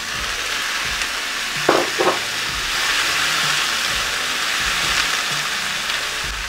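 Broccoli frying in olive oil in a pan gives a steady sizzle throughout, with a brief clatter near the start as the pieces are stirred or settle.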